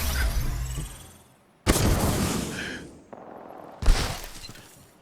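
Heavy charge rifle fire in a video game, three loud booming bursts with sharp onsets, each decaying into rumble, separated by short gaps.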